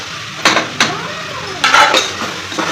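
Mutton is stirred in a pot with biryani masala, turmeric and asafoetida, giving loud, close scraping and clanking strokes against the metal with a soft sizzle underneath.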